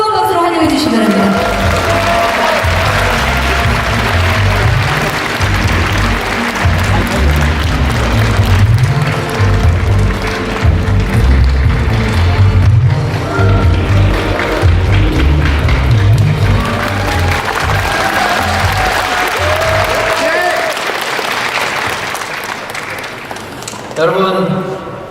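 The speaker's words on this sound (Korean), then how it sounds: "뜨거운 박수로 환영해 주시기 바랍니다" Sustained applause from a large conference audience welcoming a keynote speaker at an international basic income conference in Gyeonggi Province, steady dense clapping with some cheering for about twenty-five seconds, fading near the end.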